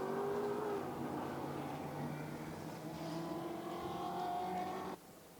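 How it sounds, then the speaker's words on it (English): GT4 race car driving at the Nürburgring during a GT4 Central European Cup race, its engine droning steadily at mid distance with shifting pitch, a second engine note blending in, before cutting off abruptly near the end. "down towards the Advan Bogen comes the race leader, Mads Siljehag."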